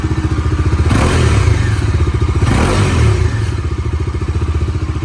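A Dominar 400 motorcycle engine idles with a steady, throbbing exhaust pulse and a slight buzzing rattle from the exhaust, close and fairly loud.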